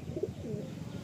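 Madrasi pigeons cooing softly, low murmuring calls in a short burst amid faint background noise.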